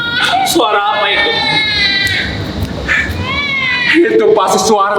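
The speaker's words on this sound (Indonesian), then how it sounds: "Itu pasti suara tangisan arwah bayi." A ghostly wailing baby cry used as a sound effect in a stage monologue at a theatre competition, long rising and falling sobbing cries filling the space, loud and close with a reverberant, eerie tone.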